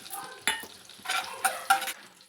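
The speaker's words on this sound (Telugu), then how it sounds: "ఇప్పుడు పచ్చిబటాని ఇవి మంచిగా వేగినాయి కదా" Cashews and green peas fry in butter and oil in a kadai, crackling and sizzling while a spoon stirs and scrapes the pan in several bursts.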